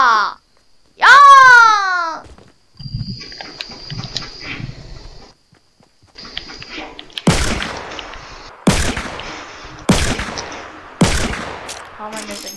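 Gunfire in the video game Fortnite, a run of loud sharp shots spaced about a second apart after a quieter stretch of game sounds, with a voice briefly at the start.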